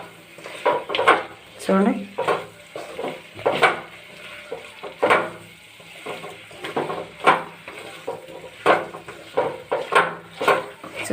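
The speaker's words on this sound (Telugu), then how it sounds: "మంచిగా కలగలపాలండి కారంని." Crushed garlic and chilli powder are mixed by hand in a bowl, giving repeated scraping and clinking strokes of utensil against dish while someone talks over them.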